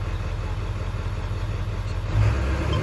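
A Ford 7.3 Powerstroke diesel engine runs at a steady high idle around 1200 rpm, a low, even rumble that grows slightly louder and fuller near the end, with no talk.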